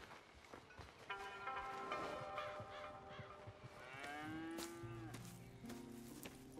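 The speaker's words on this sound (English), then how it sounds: "Here's the cows." Several cows mooing in Red Dead Redemption 2, long drawn-out lowing calls that overlap at close range, with a soft background under them and no talk.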